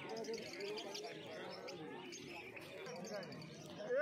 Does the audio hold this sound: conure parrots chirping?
yes